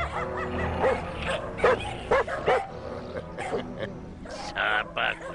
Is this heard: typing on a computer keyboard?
no